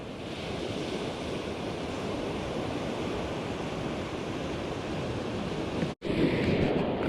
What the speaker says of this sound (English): the space in between where the waves come together and crash